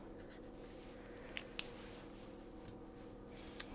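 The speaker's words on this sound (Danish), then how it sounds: "Og skriver jeg lige på, hvilken kat der vi har med at gøre" Pen scratching on a test label at a veterinary clinic treating wild cats, a soft continuous scribble with a few sharp ticks, faint over steady room hum.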